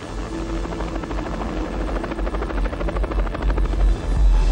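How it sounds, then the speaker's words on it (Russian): A Ka-25 military helicopter, a combat, transport and rescue rotorcraft, thunders loud and close with a steady rotor thump and engine whine that swells slightly toward the end. "Винтокрылая машина совместила в себе функции боевого, транспортного и спасательного вертолетов."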